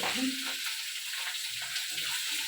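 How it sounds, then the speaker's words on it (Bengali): Green chillies dropped into hot tempering oil for a fish curry sputter and sizzle steadily, a loud close crackling hiss throughout with a few brief spits of louder popping. "এখন দিয়ে দেবো লঙ্কা লঙ্কা দিলে না ভীষণ ফোটে"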